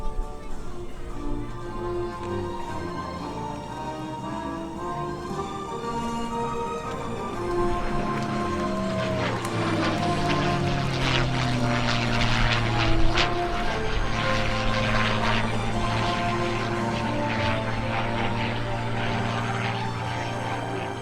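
A P-51 Mustang propeller airplane flies past at the New York Airshow, its engine drone building and then rising into a loud roar with a falling pitch sweep as it passes overhead, with crowd noise and an announcer in the background.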